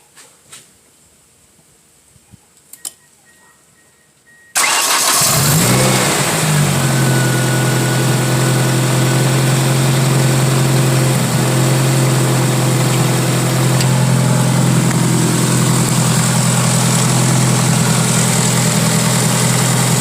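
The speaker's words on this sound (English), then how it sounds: "That really light clacking, that's the water pump." A Ford Escort engine idles steadily after starting up, a constant low rumble with a faint, light ticking from the water pump running underneath.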